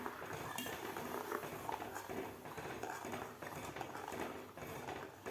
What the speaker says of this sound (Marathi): तर आपल्याला आता याला एकसारखं हलवत राहायचं आहे.